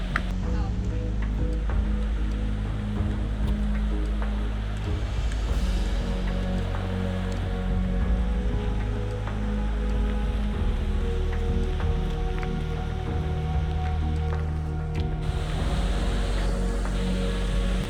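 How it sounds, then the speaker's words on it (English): A glacial river below the Zugspitze, near the gorge on the route to the Höllentalanger Hut, rushes steadily with a continuous, loud, broadband roar of water and no talking. "Beautiful glacial river."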